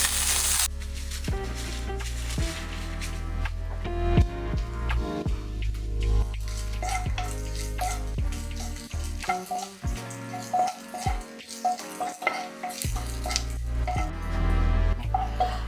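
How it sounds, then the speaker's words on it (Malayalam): Onions and a sprig of curry leaves sauté in a pan for Kerala parippu curry, a soft continuous sizzle running beneath prominent background music for the whole stretch. "എന്നിട്ട് ഇതൊന്ന് വഴറ്റിയെടുക്കാം"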